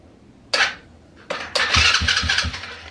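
A 110/125cc quad bike engine cranks in a few short bursts, then catches and starts running with a rough, close, loud rumble.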